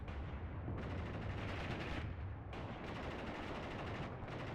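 Gunfire in the World War II video game Mius Front, dense, loud bursts of shots and explosions forming a continuous barrage with brief dips between volleys, no talk.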